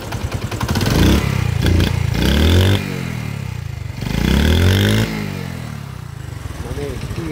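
A Honda CD70 motorcycle engine revs up and settles in two close, loud surges with a rising whine, then drops back to a clattering idle between them, while someone talks over it.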